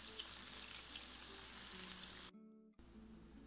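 Shami patties fry in a pan of hot oil, giving a steady close sizzle that drops out briefly midway, then resumes at the same level.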